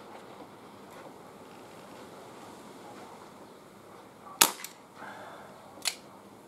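Webley 2.5-inch revolver-style CO2 air pistol fired single action at a can outdoors, giving two sharp, separate cracks a little over a second apart over a quiet, faintly breezy background.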